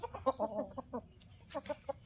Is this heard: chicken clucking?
yes